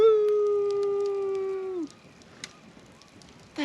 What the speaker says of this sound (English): there's coyotes very, very far away